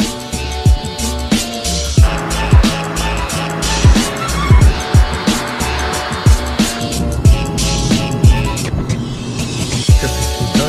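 A car driving off with tires squealing: a revving engine, repeated sharp skids and thumping impacts in quick succession, loud and close, with no voices.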